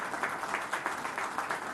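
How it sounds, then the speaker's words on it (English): Audience applause at a ministerial launch event for a cold chain centre of excellence at an airport, with steady clapping from a crowd sounding moderately near and lively, with rhythmic swells throughout. "I guess this applause needs to be more louder."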